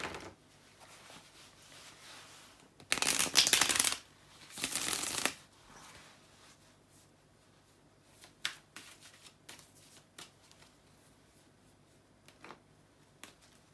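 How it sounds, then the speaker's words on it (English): Two quick bursts of tarot cards being shuffled close up, each lasting about a second, followed by quiet with scattered faint card clicks. "give me a second to shuffle the tarot cards"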